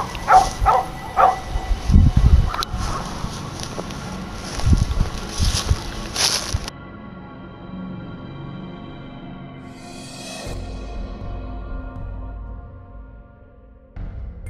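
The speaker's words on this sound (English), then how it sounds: "the neighborhood dogs going crazy over something" Neighborhood dogs bark in excited bursts for several seconds, loud and close, then give way to a quieter stretch of outdoor wind noise.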